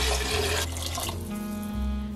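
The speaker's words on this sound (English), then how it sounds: "We're gonna add about 5 to 6 cups of our veggie broth in there." Vegetable broth is poured steadily from one vessel into a cooking pot for homemade vegan lemon soup, a continuous close liquid splashing and gurgling that shifts slightly in pitch as the pot fills.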